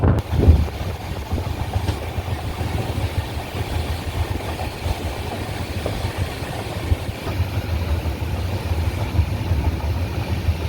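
The Island Express rolls along Kerala rails from Neyyattinkara toward Thiruvananthapuram, producing a steady low rumble with light wheel clatter and engine drone, heard from inside the train at moderate loudness.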